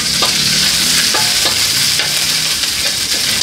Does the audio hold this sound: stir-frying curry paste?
yes